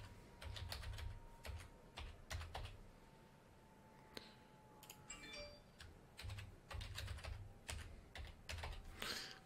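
A password is typed on a computer keyboard in quick bursts of close, crisp key clicks separated by short pauses, with no talking.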